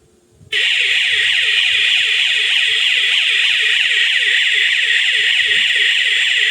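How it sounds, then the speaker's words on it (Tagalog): A homemade 230-volt rain sensor alarm sounds loudly once wet: a steady, shrill electronic siren that starts abruptly and warbles in fast repeating sweeps, close and alone, with no talk. "kapag po ito nabasa sa ulan, ay kusa na mag-alarm yung ating 230 volts."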